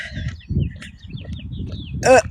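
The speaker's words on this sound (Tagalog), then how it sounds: "Ang ganda ng huni ng ibon" Chirpy bird calls flit over low background rumble and murmuring on a walk in Michigan, USA, ending in a brief, louder tonal call near the end.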